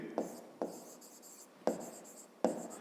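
Pen writing on paper during a fifth-grade math lesson, four short scratchy strokes with pauses between them, close and quiet.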